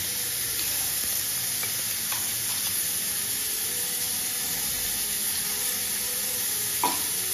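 Ginger, garlic and chili paste sautéing in a pan for mutton tehari, a dense, bright, steady sizzle and hiss with a few faint stirring taps, close and loud with no talk.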